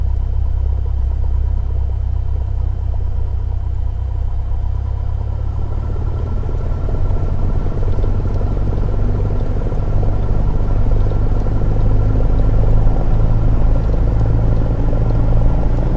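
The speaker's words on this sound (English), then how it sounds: "And now let's advance throttle to" A small piston aircraft engine in Microsoft Flight Simulator idles with a steady rumble, then builds to a louder, fuller drone as the throttle is advanced to 1800 RPM and holds there.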